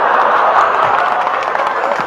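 Audience at a Hindi political speech breaks into applause, a dense burst of clapping and crowd cheering, loud and steady for the whole short stretch.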